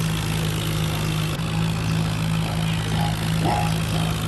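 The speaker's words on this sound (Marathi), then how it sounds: "आता आपण ट्रॅक्टर हळूहळू घेऊ जिकडं पलीकडं आणि पार्किंगला लावून टाकू." Farm tractor engine running at a slow, steady idle, close and even, with a constant low hum throughout.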